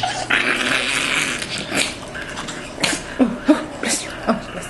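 An angry puppy lets out low, rumbling growls, a few short grumbling bursts that come close and fairly loud toward the end, with people talking softly under and around them.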